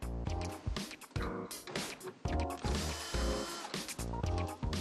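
Removing screws under the center module of a car dashboard, with dense, loud, close mechanical rattling and ratcheting tool sounds in choppy repeated bursts and no pause.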